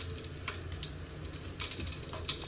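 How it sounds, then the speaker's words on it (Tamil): Whole spices and three green chillies drop into hot oil and sizzle with a soft, steady crackle. Brief brighter spits of frying come through now and then, and the sound is faint and close with no voices. "இப்போ இந்த எல்லா ஹோல் ஸ்பைசஸையும் போட்டுக்கலாம். 3 பச்சை மிளகாய் போட்டுக்கலாம்."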